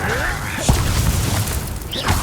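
A disarming spell is cast in the Hogwarts Legacy video game, heard as a short whooshing magical burst with a thudding boom while a character's voice shouts over it.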